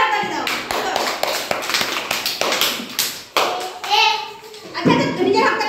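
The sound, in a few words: children clapping hands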